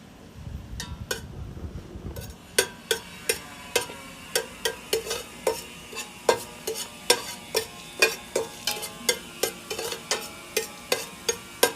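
Onion goes into hot oil in a pan for Bicolano-style chicken adobo: a soft sizzle at first, then a long run of sharp, evenly spaced scraping and stirring taps against the pan, close and distinct.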